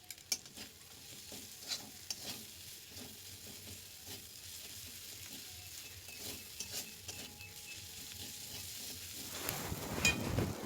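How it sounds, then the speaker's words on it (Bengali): Spices with Kashmiri chili powder sautéing in a pan for a goat trotter curry, quiet crackling sizzle with irregular scraping stirs close by, growing louder at the end, no talk. "ভালোভাবে মশলা কষানো হয়ে গেছে।"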